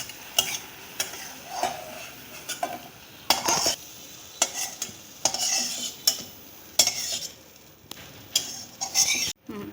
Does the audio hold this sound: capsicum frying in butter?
yes